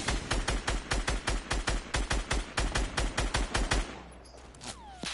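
Fortnite gunfire in a duo match: a fast, loud run of evenly spaced shots for about four seconds, then a quieter tail with a sliding whine.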